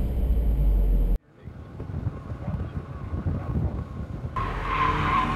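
Car tires skidding around a skid pad at a motorsports ranch driving school, a loud sustained squeal and roar that cuts out briefly, then builds back with engine and wind noise, with some talk over it.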